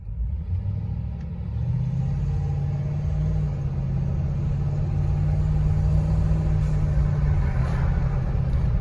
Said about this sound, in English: Okay, let's take it for a spin, see how our repair job did.